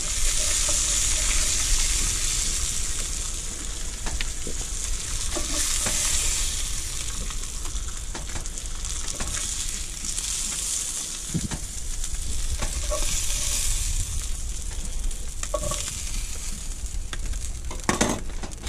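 Long, even sizzling of callop frying in a pan at Bowhill on the River Murray, close and constant, with occasional faint clicks and pops.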